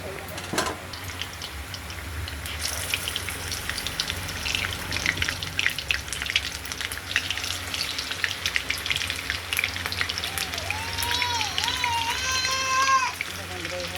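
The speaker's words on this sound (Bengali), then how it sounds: "ভাজা বসানো হয়েছে এক এক করে।" Steady sizzling of food frying in hot oil, loud and close, with scattered pops, while a voice talks over it.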